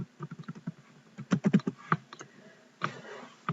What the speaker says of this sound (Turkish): Ve ödevimin başlığını yazıyorum.